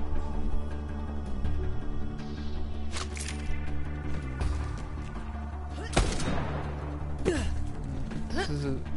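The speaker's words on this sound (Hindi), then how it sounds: "डैमेज इसका कम है बट मेरी वाली दो बुलेट एक साथ फायर करती है" Video game gunfire from a gun that fires two bullets at once, with repeated sharp bursts scattered through a busy game soundscape, mostly under steady talk.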